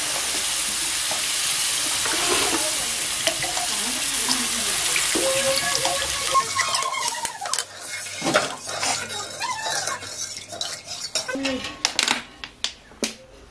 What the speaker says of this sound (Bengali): তো তাই অল্প টাইম কষিয়ে এর মধ্যে আমি জল দিয়ে দিলাম।